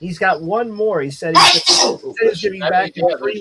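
A single loud, sharp sneeze bursts out in the middle of conversational speech, with voices talking before and after it.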